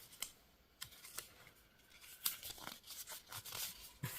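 Small sticker peeled off and pressed onto a paper envelope to seal it, giving brief crinkling and tearing rustles close by, quiet and intermittent.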